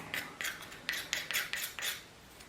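A file rasps across a plastic part of a UH-60 Black Hawk model kit to flatten its base, making about seven short, close scraping strokes in a quick, uneven rhythm.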